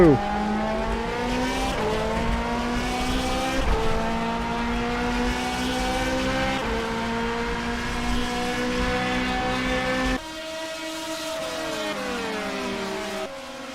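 DTM race cars at Hockenheimring, engines screaming loudly at high revs with rising and falling pitch as they accelerate and shift through the gears, a commentator talking over the steady roar.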